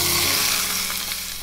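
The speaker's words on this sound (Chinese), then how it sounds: "再来泼上热油" Hot oil poured over minced garlic seasoned with soy sauce, oyster sauce and salt produces a loud, steady, close sizzle that fades slightly as it goes on.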